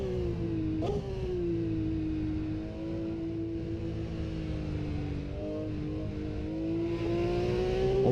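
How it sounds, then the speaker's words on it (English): A race car engine in Assetto Corsa, heard from a replay camera, holds a loud sustained tonal drone that dips and rises slightly as it passes and revs, steady and continuous throughout with no talking. "Just wait until you listen to this car from the replay camera."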